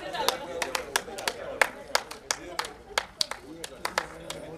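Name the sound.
audience clapping at a book launch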